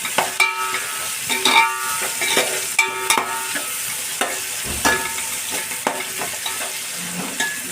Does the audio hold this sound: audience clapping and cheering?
no